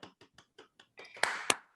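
Scattered hand claps at an online award ceremony for a prize winner, starting as a few separate claps and swelling into brief, louder clapping from several people before fading.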